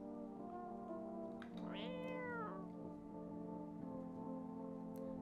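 A cat meowing in the video game No, I'm Not A Human: one drawn-out, rising then falling meow over a steady tonal music bed and soft rain-like hiss, fairly close and clear.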